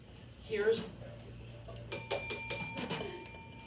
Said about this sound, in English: Well, there's the bell, and you know who rang in?